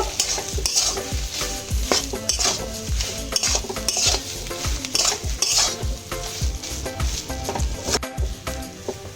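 Potato pieces frying in a pan with lote (Bombay duck) fish and a spoonful of chili powder, stirred with a utensil: steady close sizzle under repeated scraping and clinking strokes of the spoon against the pan.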